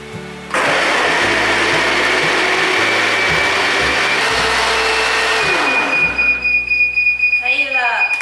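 A juicer-style blender blends vegetable ingredients, including sautéed white mushrooms and water, with a loud, steady whir that starts suddenly and drops in pitch as it winds down near the end, followed by clinking.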